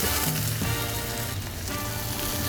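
A Doritos nacho omelette sizzles in a pan, a steady close frying hiss with fine crackles and no voices.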